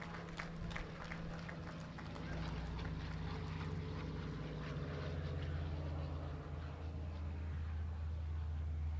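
A restored vintage propeller aircraft flies past with a loud, steady engine drone and a deep, low hum that holds for the whole stretch and swells slightly as it nears.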